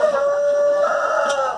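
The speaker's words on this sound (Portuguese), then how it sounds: "Olha só o galo aí, ó." A rooster crows once at close range, a sustained loud call lasting over a second, heard on a farm where gamecocks are kept for breeding.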